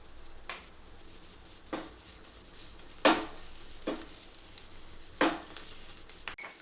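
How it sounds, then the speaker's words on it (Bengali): Doi Katla masala with turmeric sizzles steadily in a pan, broken by several sharp scrapes and clinks of a spatula stirring against the metal at irregular intervals. "এটাকেও ভালো করে একটু কষতে থাকবো।"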